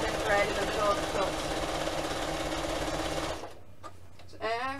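A sewing machine runs fast and steady while stitching a quilt, a close mechanical whirring that stops partway through, after which a voice speaks.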